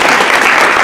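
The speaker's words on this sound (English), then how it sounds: "please clap it up for my" Close, loud burst of audience clapping for a therapist at a live event, a dense wash of applause lasting under a second.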